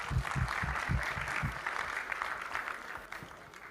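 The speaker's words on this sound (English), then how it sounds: "Ladies and gentlemen, another round of applause." An audience applauds a tablet prize winner at the launch of a national ICT job fair, moderately quiet clapping with a few stronger claps early that fades slightly toward the end.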